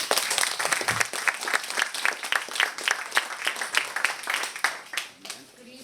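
An audience at an evening book launch in a bookstore claps steadily and warmly for several seconds, the applause fading out at the end.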